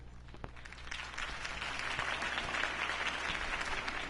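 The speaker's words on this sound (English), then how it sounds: "If only Mr. Wayne, my campaign's largest backer, could have heard that applause" A crowd applauds after a campaign speech in the Batman Telltale video game, a dense, steady wash of clapping that swells and holds for several seconds without any voices.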